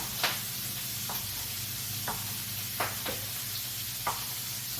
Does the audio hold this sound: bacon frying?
yes